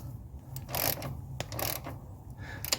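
A hand-held ratchet turns engine-compartment bolts snug during a service, giving repeated short clicking bursts of pawl ratcheting, close and moderately loud, with brief pauses between strokes.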